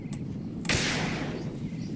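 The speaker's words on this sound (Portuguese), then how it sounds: "Vou dar um tiro aqui pra espantar elas." A single sharp gunshot cracks out close by, fired to scare off pigeons, followed by a short fading echo over quiet outdoor background.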